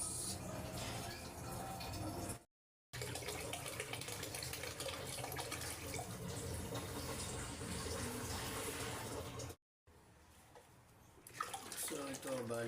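Water gushing from a tap into a bucket, a loud continuous splashing pour with two brief breaks, while a person talks over it.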